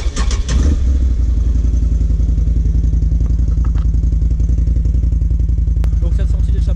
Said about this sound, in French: pour que je puisse vous faire écouter la sonorité du quad.